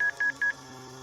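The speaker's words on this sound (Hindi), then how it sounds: "डर के मारे वो सुमित्रा को फोन मिलाने लगी" Three short electronic telephone keypad tones beep in quick succession, evenly spaced and clear, then stop, leaving only a faint background hum.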